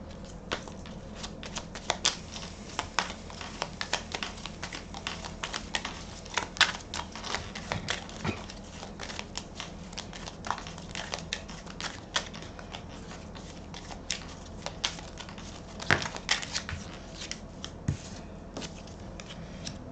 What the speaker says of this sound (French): je vais, pour finir, tirer quelques cartes du petit oracle des fées